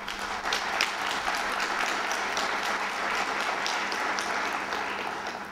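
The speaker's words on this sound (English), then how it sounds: "you've gotten way more applause than the home team" Audience applause fills a hall at a debate on whether God exists, a dense, steady wash of clapping that holds for several seconds and tapers slightly at the end.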